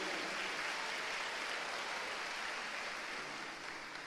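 A church congregation applauds in praise during a sermon, giving steady, dense, faint clapping that fills the room with no speech over it.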